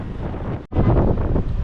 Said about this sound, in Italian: dove fa veramente freddo e tira tanto vento